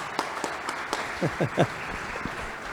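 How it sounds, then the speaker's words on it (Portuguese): Applause rises from the audience at a business panel talk in Itapema. A dense patter of clapping runs through the short stretch, with voices calling out briefly in the middle. "Salva de palmas."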